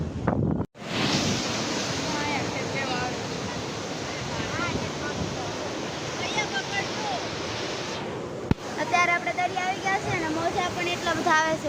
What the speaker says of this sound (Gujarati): એટલો પવન આવે છે કે રૂમાલ ઉડી ગયો છે